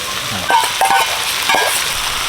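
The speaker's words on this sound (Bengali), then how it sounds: "চাল কুমড়ো সিদ্ধ হয়ে গেছে ডিমটা ঢেলে দিচ্ছি" Beaten egg poured into a pan of cooked ash gourd, with a soft sizzle and a few scraping stirs of a spatula against the pan.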